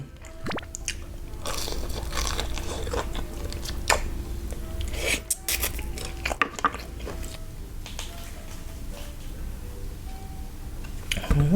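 Crispy Thai-style chopped fried chicken is eaten close to the mic, with repeated sharp crunching bites and chewing between soft murmurs from the eater.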